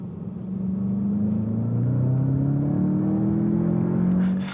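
An APR Stage 1 tuned car pulls hard in second gear from 50 to 100 km/h, its engine note climbing in one continuous rising drone, loud and steady, with no talking.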